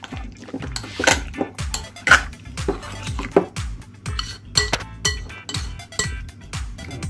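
A spoon stirs chicken wing marinade with paprika in a bowl, giving a run of quick, close clinks and scrapes against the dish in an irregular rhythm, fairly faint and with no talk.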